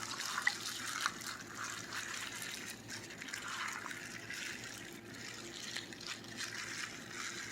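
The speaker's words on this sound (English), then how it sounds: "I am going to just use what's in the bottom of the turkey bag to go over our dressing." Juices from the bottom of a turkey breast roasting bag are poured over a dish of dressing, a soft steady liquid trickle and splash heard close and quiet with no talking.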